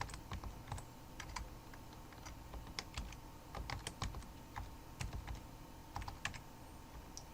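A password being typed on a computer keyboard while creating a mail user account, with irregular bursts of close, crisp key clicks and short pauses between them, with no voices.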